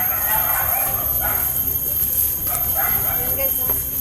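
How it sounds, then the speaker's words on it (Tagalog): Dogs bark and yip along a dark roadside at night, several short calls scattered through a steady noisy background, with people talking over them. "tahol ang mga aso ba?"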